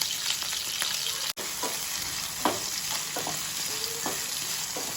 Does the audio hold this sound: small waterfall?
no